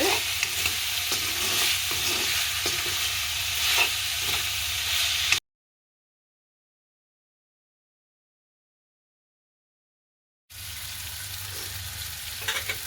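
Onions and spices for a prawn curry frying in a pan, a close, steady sizzle broken by a few stirring scrapes, dropping out to complete silence midway before the frying hiss returns.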